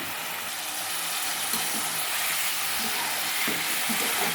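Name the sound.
paneer pieces lightly roasting in ghee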